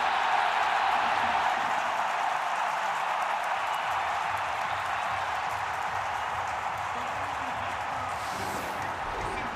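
A large baseball stadium crowd at a World Baseball Classic game between Japan and Taiwan roars after a strikeout, a steady, loud, broad wash of cheering that holds throughout without breaks.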